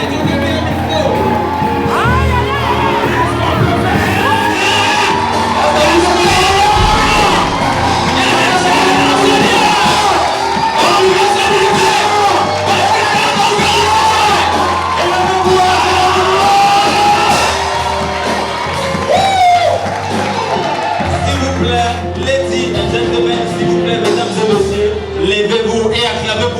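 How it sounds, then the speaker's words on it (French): Conference crowd cheering and shouting in a large hall, a dense sustained roar of voices, whoops and yells, loud and continuous throughout, with a voice speaking over it. "Levez-vous et acclamez pour vous-même. Acclamez, acclamez."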